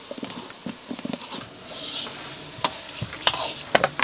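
Spices crackle and sizzle as they are tempered in a pan for a millet dish, with a dense hiss, quick popping spatters and a few stirring clicks close by.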